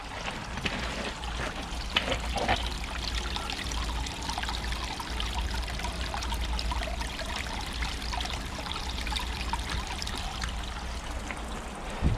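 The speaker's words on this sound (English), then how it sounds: "The water is absolutely crystal clear, the sound is absolutely beautiful." Water trickles and splashes steadily down a completed pondless garden waterfall built from stones, a continuous close, even rush with no voices.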